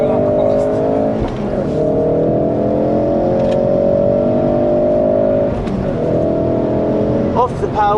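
A Ford Focus RS accelerates hard on a race track, its engine droning loud and close with rising pitch, interrupted by brief gear-change dips, while a voice speaks over it.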